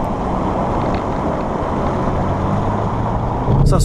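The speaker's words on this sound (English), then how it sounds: "We get a little bit of extra exhaust noise, about as much as you're ever going to get from a diesel" A steady, broadband engine and exhaust drone with low rumble from a 2019 BMW X5 M50d diesel in Sport Plus mode, continuous and fairly loud, swelling slightly near the end.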